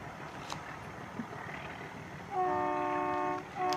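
A meter gauge diesel train in India sounds its horn in one sustained blast, with a shorter follow-up note, over the rumble of rail movement and ambient noise.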